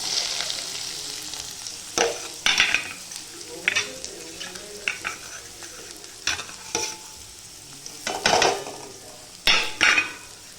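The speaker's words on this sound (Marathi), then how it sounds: "आता हा कांदा चांगला लालसर रंग येऊपर्यंत परतून घ्यायचा" Onion tossed into hot oil with crackled cumin seeds fries with a low steady sizzle, broken by sharp scraping stirs of a spoon against the pan at irregular intervals, close and moderately loud.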